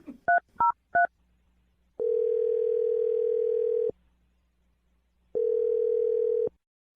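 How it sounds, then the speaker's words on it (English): A short run of touch-tone telephone dialing beeps sounds as a number is dialed, followed by two long, steady ringback tones with a pause between them. The tones are clear and close, and no one speaks. "We're about to dial his phone number."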